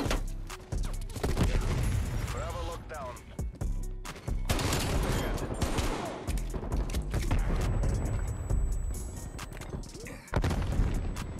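Dual-wielded M1911 pistol shots in a first-person shooter, a dense loud string of rapid shots and impacts almost throughout, with a voice talking over them.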